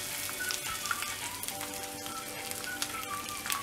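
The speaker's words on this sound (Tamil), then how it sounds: "உளுத்தம் பருப்பு கடலைப்பருப்புலாம் நல்லா செவக்கிற வரைக்கும் இந்த எண்ணெயில் ஃப்ரை பண்ணிகிட்ருக்கணும்." Urad dal, chana dal, curry leaves and grated coconut fry steadily in hot oil for a rice-ball dish, a faint, continuous crackling sizzle with scattered pops and no voices.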